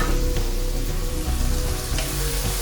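Masala for a Kerala-style mushroom gravy sautéing in a pan, a close, steady sizzle and crackle of frying, with no break.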